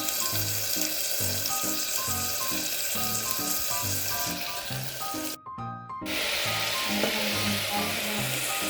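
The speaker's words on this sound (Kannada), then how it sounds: "ಕರಿಬೇವು ಹಾಕಿ ತಾಳಿಸ್ತಾ ಇದ್ದೀನಿ." Curry leaves dropped into hot oil with mustard seeds, cumin, garlic, onion and tomato, tempering for vangi bhaat, a steady loud sizzle and crackle close up with stirring clinks and a brief pause.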